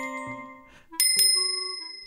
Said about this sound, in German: eine Glocke. Hört mal zu. Hört ihr das?